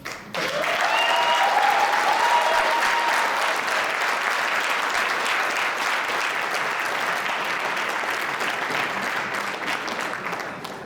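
Sustained, loud applause from a keynote audience at a Black History Month event, with a faint whoop early on, dense clapping holding steady and easing slightly toward the end.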